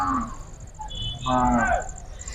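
Hallikar bulls moo loudly nearby at a cattle fair in Karnataka, two drawn-out bellows over a murmur of crowd noise outdoors.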